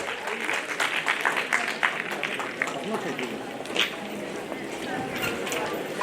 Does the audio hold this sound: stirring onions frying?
no